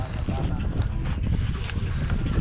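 Heavy wind rumbles into the microphone in low, uneven gusts for a couple of seconds, with no clear talking.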